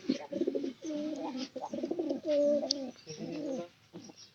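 A pet pigeon coos close by in a series of soft, throaty, rolling phrases with short pauses between them, alone without other sounds.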